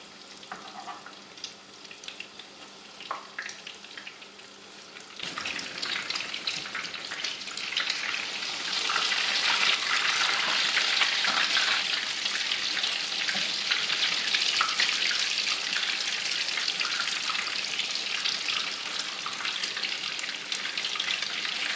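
Breaded chicken schnitzels, Parisian style, fry in hot oil. A quieter start gives way to a loud, steady sizzle that fills the rest of the time, with no talk.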